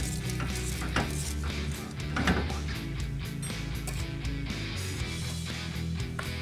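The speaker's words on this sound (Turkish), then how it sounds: "1 yemek kaşığı tereyağı, 1 paket vanilya ilave edip karıştırıyoruz" Spoon stirring a thick pudding in a pot after butter and vanilla are added, heat off; a steady close scraping and churning texture runs throughout with no talk.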